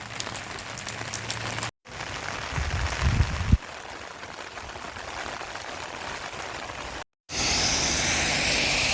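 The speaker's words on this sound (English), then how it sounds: "Here comes the rain." Rain falls steadily in the Arizona desert, a dense, continuous hiss with a brief heavier rumble partway through and two short dropouts of silence.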